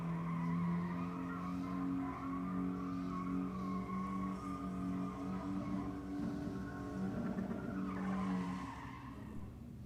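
A Toyota Hilux pickup drag racing on a strip, its engine holding a loud, steady high-rev drone that bounces off the rev limiter before cutting away near the end.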